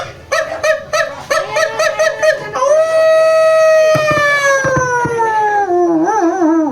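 A person's voice imitates a barking dog, giving a run of short rhythmic yelps followed by a long drawn-out howl that wavers and fades, loud and close.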